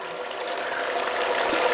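Wort recirculating through the pump and return line of a 240V 10.5-gallon Anvil Foundry electric brewing system on a wet-hop harvest ale brew day, a steady trickling, splashing wash of liquid at close range, with no talk.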